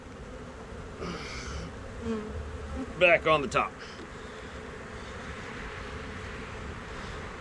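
Honey bees buzz around an open hive in a steady, faint drone, broken by a short burst of louder clattering and handling noise near the middle. A voice briefly speaks.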